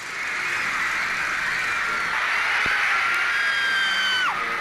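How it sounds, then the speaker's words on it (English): Girls at a concert scream in a sustained, dense wall of high-pitched crowd shrieking that holds steady throughout, with a few individual voices rising and sliding above the mass. "The screaming never stopped."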